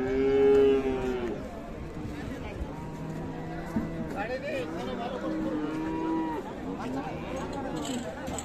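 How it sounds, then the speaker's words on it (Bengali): Friesian dairy cows moo repeatedly at a busy village cattle market, several long, loud lowing calls overlapping with crowd chatter and people talking nearby. "ফ্রিজিয়ান গাভী, দুধের গাভী এগুলা।"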